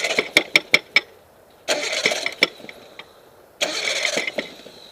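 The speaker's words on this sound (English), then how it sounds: "I'm going to have someone else spin the engine" A Geo Metro engine is cranked by its starter in short bursts during timing belt work, with rapid sharp clicks and knocks followed by two longer whirring cranking spells, close and fairly loud.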